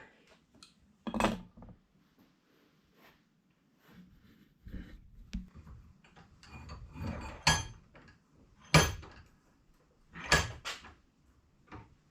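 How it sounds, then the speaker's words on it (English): Small metallic clicks and ratcheting turns sound as a head holder is screwed into a Honda GL1000 cylinder head from a 1977 bike, scattered sharp taps and scrapes close by in a quiet room. "So the first thing you do is screw in a head holder."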